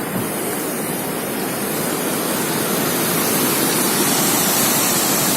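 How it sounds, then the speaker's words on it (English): Waterfall roaring into a ravine beneath a suspension bridge on the Annapurna trek in Nepal, two falls together making a loud, steady broadband rush that holds unbroken and slightly swells. "actually 2 waterfalls."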